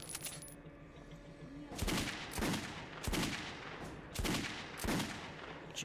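Gunfire in the video game Metro 2033 Redux: about five loud, sharp shots spaced roughly a second apart, each with a short ringing tail, after a brief quieter stretch at the start.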